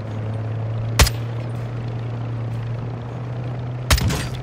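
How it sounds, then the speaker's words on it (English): An enemy helicopter hovers overhead in the Modern Warfare 2 Spec Ops mission Denied Area, a constant low rotor drone under two sharp, loud bursts of gunfire. "We got a enemy helicopter above us."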